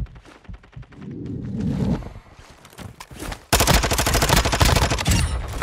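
Gunfire in a video game: scattered single shots and short bursts at first, then a sudden loud stretch of sustained rapid automatic fire close by, with no talking over it.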